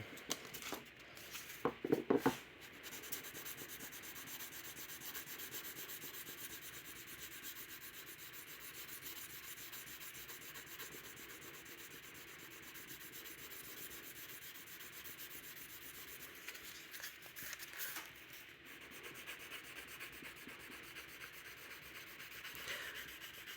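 A Case knife is sanded by hand with 320-grit sandpaper, a quiet continuous rubbing and scraping with a few louder strokes and clicks near the start.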